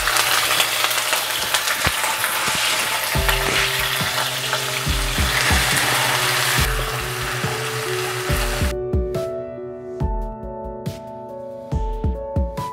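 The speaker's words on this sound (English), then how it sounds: "Garam masala has become a little brownish in color. In goes some finely chopped onions." Finely chopped onions frying in oil with browned whole garam masala spices such as cardamom and bay leaves, a loud close sizzle that settles into a softer hiss, broken by repeated clanks of a spoon stirring against the pan.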